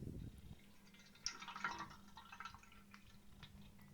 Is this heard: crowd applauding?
no